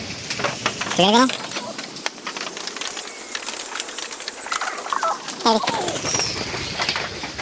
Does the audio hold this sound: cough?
no